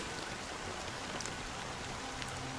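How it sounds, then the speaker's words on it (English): Steady rain falls in a dense, even hiss, with faint scattered drops tapping a surface and no voices. "it's still raining"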